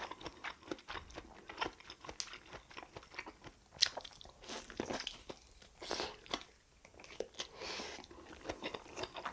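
Close, crunchy chewing of grilled mushroom during a Korean mukbang, wet bites and mastication in irregular bursts, intimate and quiet with no talking.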